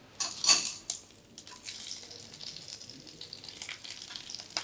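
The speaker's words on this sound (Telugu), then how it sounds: "వేయించిన తర్వాత పచ్చిమిర్చి వేసుకోవచ్చండి." Green chillies dropped into hot oil for tempering a mango pulihora, giving a brief burst of crackling sizzle that settles into a steady, moderate frying hiss with small stirring clinks, close and without speech.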